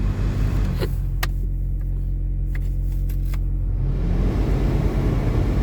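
Air blows steadily from the vents of a used car, a constant rumbling whoosh that continues throughout, with a few soft clicks from dashboard buttons near the start.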